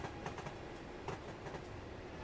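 A Valenta HST in intercity livery runs in Train Sim Classic, heard as a steady low rumble with faint rhythmic clicking of wheels over rail joints, continuous and fairly quiet.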